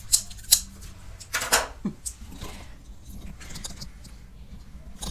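Scissors cutting fabric in a sewing studio, a few sharp snips and clicks scattered over several seconds, close and crisp, with handling rustle between them.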